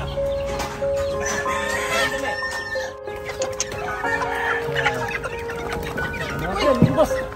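Chickens clucking on a poultry farm in Surigao del Norte, a steady cluster of close clucks and calls running throughout over a busy farmyard background, with people talking nearby.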